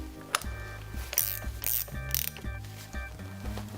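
Quick ratchet clicks from a ratchet driving a 30 mm socket, tightening an SC4 Auto Bleed cartridge into a bike shock, in short bursts of close, crisp metallic ticking with brief pauses between strokes.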